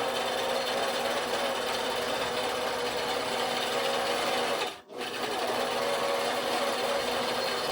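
A sewing machine stitches a quilt in a continuous, fast mechanical whir, with one brief pause midway before the steady running resumes, close and even.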